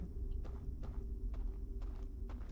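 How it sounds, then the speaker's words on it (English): Footsteps in the Outer Wilds video game land in a slow, regular series of about five sharp steps over a steady low ambient hum, fairly close, with no voices. "I feel like I heard footsteps just now."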